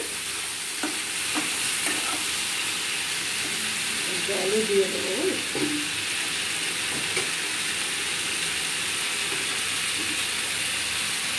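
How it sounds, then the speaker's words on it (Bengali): Vegetables stirred and fried in a kadai for a bottle gourd and snakehead fish curry, with a soft continuous sizzle and a few scraping stirs from a spatula, quiet and close. "আরেকবার কড়াইয়ের ঢাকাটা তুলে দিদি ভালোভাবে সবজিগুলো নেড়ে দিচ্ছে।"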